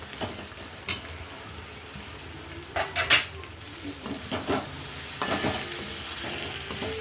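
Pieces of chapati-dough breakfast being tossed in a hot pan, with steady sizzling frying under intermittent scraping stirs and clinks of a utensil against the pan, repeated several times over about seven seconds.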